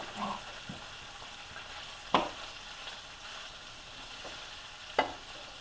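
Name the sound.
sausage frying and popping in a pan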